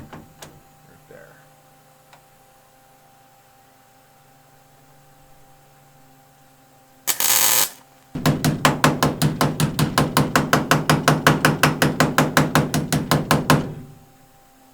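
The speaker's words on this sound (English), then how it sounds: "This is in fact a hammer." Hammering on the cab metalwork of a 1989 K5 Blazer: after a brief burst of noise, a rapid, steady run of loud metallic blows lasts about five seconds before stopping, with room noise around it.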